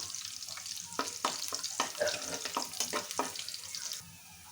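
Three dried red chillies fry in hot oil with a busy crackling sizzle, punctuated by stirring scrapes in the middle, then settling to a softer hiss at the end; no speech.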